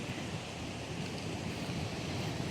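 Typhoon Uwan drives strong wind and churning sea waves, a loud, unbroken roar of rushing air and surf close to the microphone.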